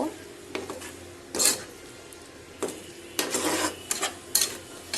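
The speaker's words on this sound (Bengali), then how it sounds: "আমি এখানে মশলা ভালো করে দিয়ে মাখিয়ে দিব" Goat brains are worked with spices in a pan on the stove, a spoon scraping and clinking against the metal in short, irregular bursts with quiet pauses between strokes.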